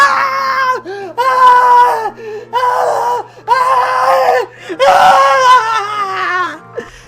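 A person's voice imitates Dave England screaming during a Jackass stunt: loud, strained yells in repeated bursts with short breaks between them, close and dominant throughout.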